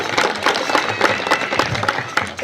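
Audience at a Congress party event on women's empowerment breaks into enthusiastic applause, dense rapid clapping from many hands filling the hall, loud and close, with no talking.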